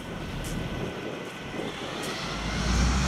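A hovercraft's engine and rear propulsion propeller rev up before lift-off, a loud steady roar with a whooshing airscrew tone that climbs in pitch and volume toward the end.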